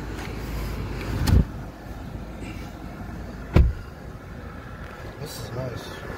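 Cabin of a 2019 Genesis G90 Ultimate with a naturally aspirated 5.0 V8 while driving: a steady low road and engine rumble fills the interior, broken by two brief thumps, with faint talk at times.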